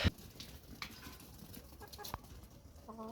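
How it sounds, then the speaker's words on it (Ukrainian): Chickens clucking nearby, short soft calls scattered over a few seconds with some rustling and a brief louder knock. "Кури прибігли."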